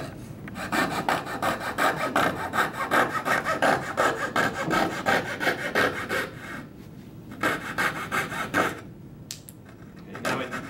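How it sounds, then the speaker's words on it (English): A coping saw cuts through soft half-inch pine in a steady, rhythmic run of rasping strokes, close and fairly loud. It pauses briefly twice, then the sawing resumes. "I'm just going to start here on this piece of wood and make a little cut."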